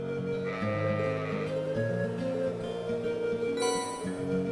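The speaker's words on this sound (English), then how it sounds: "Hello, sheep." Sheep in the Trails of Cold Steel game give repeated wavering bleats, loud and close, layered over steady background game music.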